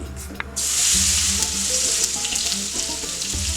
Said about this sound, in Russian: масло разогрето, оно греется уже минут как 7. Сейчас чеснок отправляется сюда буквально на секундочку